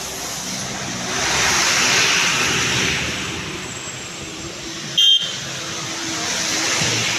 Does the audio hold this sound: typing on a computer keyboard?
no